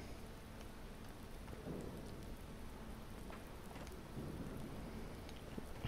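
Rain pours steadily in the farming video game Farming Simulator 19 on the Sosnovka map, a soft continuous patter with faint thunder rolling in the background, quiet and with no voices.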